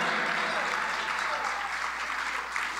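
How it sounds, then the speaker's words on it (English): Audience applause at a live church-hosted music show, a dense steady wash of clapping that fills the whole stretch at close, loud level with no clear break. "let's keep that applause flowing"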